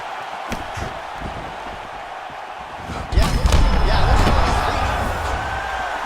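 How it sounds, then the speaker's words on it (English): A heavy knee strike thuds into a fighter's body in the UFC 4 video game, a sudden loud low impact under an excited crowd roar, with commentary voices over the action. "Knee to the body."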